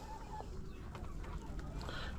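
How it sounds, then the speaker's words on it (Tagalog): Backyard chickens cluck softly and intermittently while feeding on cabbage leaves, with a few short higher calls rising over a steady low background. "tapos na akong nagpakain sa aking mga manok at nagpalit ng kanilang inumin"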